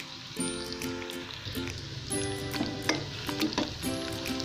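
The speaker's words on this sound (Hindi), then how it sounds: "अब हम इसमें लहसुन और अदरक का पेस्ट डालेंगे। इसे भी हम हल्का सा सॉफ्ट करेंगे तकरीबन 30 सेकंड के लिए" Garlic and ginger paste frying in a pan for fried rice, a steady close sizzle with intermittent stirring scrapes and a faint background hum, no voices.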